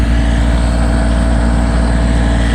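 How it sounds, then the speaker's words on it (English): A Kioti LK30 tractor with a three-point John Deere snowblower runs in deep snow, a loud, close, steady engine drone with a heavy low rumble that never lets up. "Got the Kioti lk30 with the John Deere 66-inch cut backhoe on it, or snowblower"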